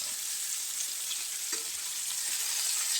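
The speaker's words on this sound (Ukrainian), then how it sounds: "воно так засмажилося вже прям" Fresh pork fat frying in a pan, a steady dense sizzle and crackle throughout with a faint clink midway, close and even in level, no voices.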